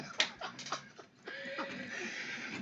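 Horse whinnies and hoof clatter in a film scene, a few short bursts of neighing with clopping steps, moderately loud with no talk over them.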